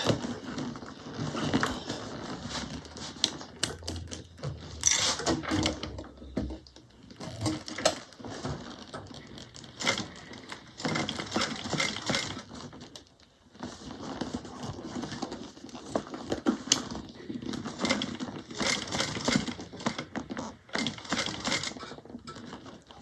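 A sewing machine stitches a bag in repeated short bursts of rapid, clattering needle action, stopping and starting with brief pauses in between, close and fairly loud with no talking.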